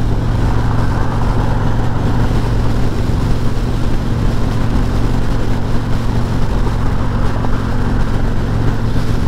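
A 2021 Harley-Davidson Freewheeler trike on its first ride from the dealer, a loud steady engine rumble with heavy wind buffeting throughout, no pauses.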